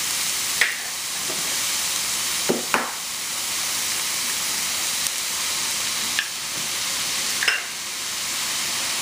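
Two eggs crack into a hot pan beside pushed-aside vegetables while cooking Chinese rice, giving a steady close sizzle and hiss broken by a few sharp pops and spatters, with no talking.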